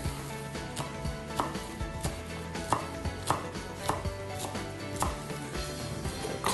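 Italian flat leaf parsley is chopped with a rocking knife on a cutting board, giving a quick, steady run of close, crisp knocks with no talking.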